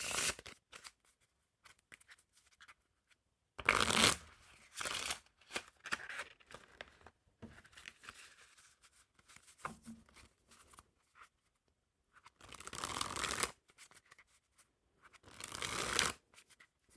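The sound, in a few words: riffle shuffling playing cards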